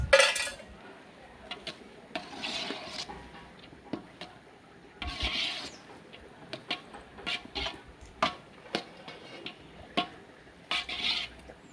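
Coconut milk rice is stirred in a pot, a spoon scraping and clanking against the metal in irregular bursts, followed by a lid being set on top, close and fairly quiet with no talking.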